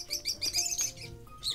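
A red bird chirps in a string of quick, high, bright tweets, close and clear, with short pauses between the calls and no talk.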